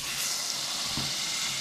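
Butter melting in a pan over medium heat for brownie batter gives off a steady, close hiss and sizzle, with one soft low knock partway through.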